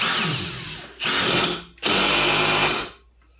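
An impact driver fitted with a 6 bit drives a screw in two loud bursts of about a second each, with a short pause between them and a brief stop at the end.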